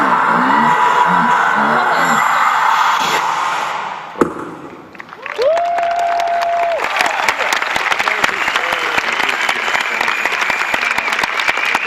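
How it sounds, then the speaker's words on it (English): Loud audience applause fills a hall at the Campus Party 2013 opening ceremony, a dense steady clatter of many hands with a few whoops, following a brief tone and thump. "It is lovely of you that you would applaud me."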